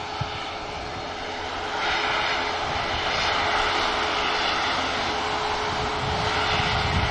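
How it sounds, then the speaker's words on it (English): An EasyJet airliner rotating off runway 23L at Manchester Airport: a steady, loud engine roar that swells after a couple of seconds and holds as a broad, sustained rumble and hiss, with no voices. "EasyJet rotates from 23 left"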